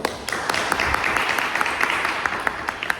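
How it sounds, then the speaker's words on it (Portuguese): A church catechism audience gives a round of applause, a steady wash of many hands clapping at moderate distance, with a few louder individual claps standing out. "Dá uma salva de palmas para a Igreja Católica"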